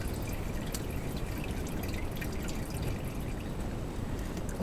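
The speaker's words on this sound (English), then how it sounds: "Try to catch anything that drips out of the pan." Automatic transmission fluid drips and trickles steadily from a loosened transmission pan on a GM Buick, a continuous wet dribbling hiss with faint scattered drips and no talk.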